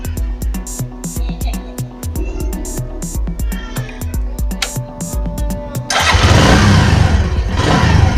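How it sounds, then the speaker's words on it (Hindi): An electric self-starter cranks a motorcycle engine in close, rhythmic bursts for about six seconds before it catches and settles into a loud, rough idle. "तो चलिए अभी मैं आपको सेल्फ से स्टार्ट करके दिखाता हूँ।"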